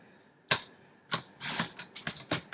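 Scissors cutting paper for an altered tin gift package craft: a string of quiet, crisp snips and rustles, a few spaced apart and then quicker ones, close by with no voices.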